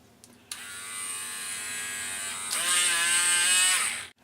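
A small two-speed rotary tool spins a tiny steel wire wheel used to clean HO slot car contact shoes, whining steadily at low speed and then rising to a louder, higher-pitched buzz when switched to high before cutting off.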